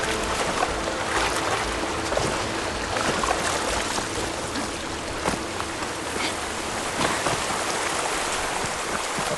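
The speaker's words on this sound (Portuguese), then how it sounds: "Atrás da cachoeira." A waterfall in the video game Horizon Forbidden West pours with a steady, dense rushing hiss that stays loud and continuous throughout, with no voices.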